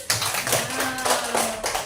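A class of elementary schoolchildren clap their hands together in a classroom, with a steady, dense patter of many small hands running throughout, a thin voice briefly audible beneath.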